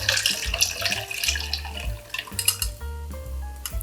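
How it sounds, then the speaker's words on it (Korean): Garlic-infused broth for chilled cucumber soup pours through a sieve, a close splashing, trickling stream of liquid with light clinks of a bowl and utensils. "여기에 채 쭉 걸러주세요"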